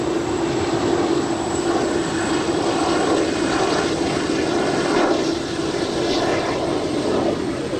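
An airliner on its takeoff roll from runway 25 right at Los Angeles International Airport, heard as a loud, steady engine roar with a high whine, continuous throughout and close by.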